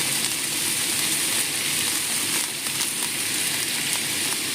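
Bitter gourd added to hot oil with browned garlic fries in a steady, loud, hissing sizzle with faint crackles that continues throughout, with no talk.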